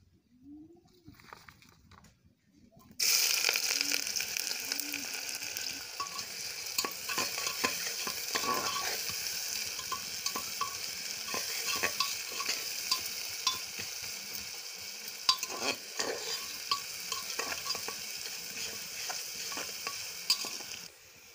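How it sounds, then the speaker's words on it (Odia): Onions hit hot oil with caramelised sugar in a pan and erupt into a steady, loud sizzle after a quiet start, with occasional stirring scrapes and clicks. "ଦେଖନ୍ତୁ ଆମର ପିଆଜ ଭାଜି ହେଇଗଲାଣି।"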